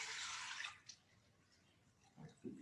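Water gathered over many years is poured into a traditional water communion bowl at a congregation's worship service: a short burst of rushing, splashing pour, then quiet with a couple of soft clunks.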